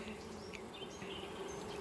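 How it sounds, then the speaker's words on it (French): A buzzing honeybee hive gives a dense, steady drone of many bees at close range, with individual bees whining past, lasting under two seconds and no voices. "Qui a une ruche bourdonneuse."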